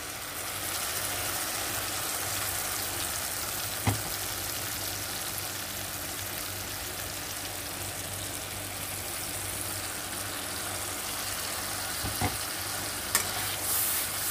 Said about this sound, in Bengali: এই পর্যায়ে আমি দিয়ে দেব পিষে রাখা পোস্তটা আর সর্ষেটা।